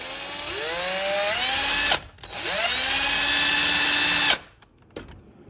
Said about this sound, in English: then you're gonna drill it right into the center of that